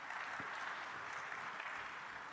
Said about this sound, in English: Please, a round of applause to him.